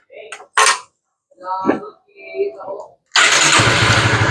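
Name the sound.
motorcycle engine starting after clutch lining assembly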